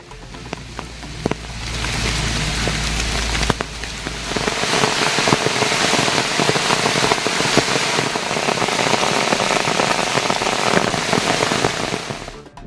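Continuous heavy rain patters in a dense, loud hiss on surfaces in a rubber-growing area, steady throughout with a low rumble at the start.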